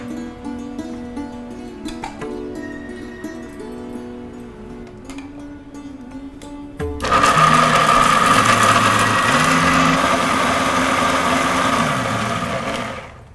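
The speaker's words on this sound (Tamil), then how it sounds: "தேங்காய், கசகசா, முந்திரி போட்டு அரைச்சி எடுத்தாச்சு" A mixer grinder switching on to grind coconut, poppy seeds and cashews, with a loud steady whirring motor that runs for several seconds after a quieter stretch with faint background tones.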